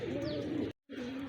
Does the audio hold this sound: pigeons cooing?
yes